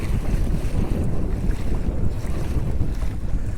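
Strong gusting wind roars across the microphone while choppy water slaps and churns around a Hobie Outback under sail, a loud, continuous rush with no voices.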